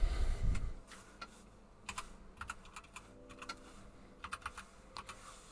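Fingers typing on a computer keyboard, quiet irregular bursts of key clicks with short pauses, after a brief soft thump at the start.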